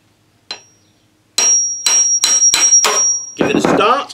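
Sharp metallic hammer taps strike five or six times in a steady rhythm, driving a knife into bamboo, each ringing briefly, with one softer tap before them and a clattering hit at the end.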